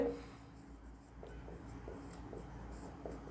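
Pen scratching out a Class 10 trigonometry solution on paper or a board, a run of soft irregular strokes close by, steady and unhurried with no talk over it.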